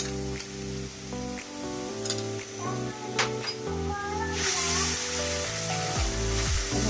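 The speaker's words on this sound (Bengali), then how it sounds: "মশলাটা একটু কষিয়ে নেবো" Ground cumin, ginger and garlic masala paste fries in a pan for a pabda fish curry, giving a soft continuous sizzle that swells louder in the second half beneath steady background music.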